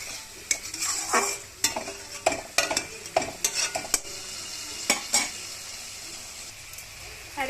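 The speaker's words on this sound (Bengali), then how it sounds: "আর এই মশলাটা ভালো করে কষিয়ে নেব আমি" A spatula stirs and scrapes a spice paste of ginger, garlic and onion in a hot pan, with a soft sizzle underneath and a string of sharp clinks and scrapes, fairly quiet and close.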